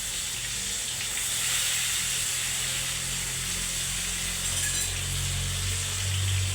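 Stuffed brinjals (eggplants) frying in oil with mustard seeds and turmeric, a dense, even hiss of oil sizzling throughout, close and steady, with no talk.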